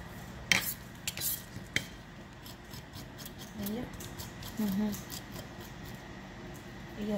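A knife cuts through nopales on a board with a few sharp clicks and scraping strokes, quiet and close, while a voice speaks faintly in places.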